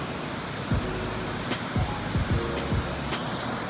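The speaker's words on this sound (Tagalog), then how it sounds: "ang lakas ng ulan" Heavy rain pours down in a near-storm, a dense, loud, continuous hiss of downpour with occasional low thumps and sharper drips, no voices.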